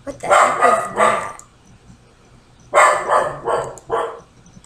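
A dog barks close by in two bursts, three quick barks, a pause, then four more.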